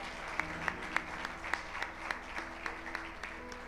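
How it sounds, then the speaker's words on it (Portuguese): A church congregation claps in praise, faint and distant, with a few distinct sharp claps standing out at a loose, roughly even rhythm over a low background hum. "aplauda o nome do Senhor"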